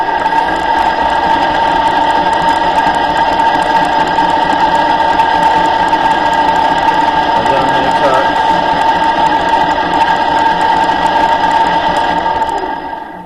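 A metal lathe runs steadily at 600 rpm, giving a continuous, fairly loud mechanical hum with a whirring, ratchety texture that holds even throughout and fades slightly at the end.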